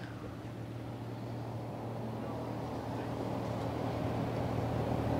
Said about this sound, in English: So I just changed the temperature to 21 just to show the heat pump in action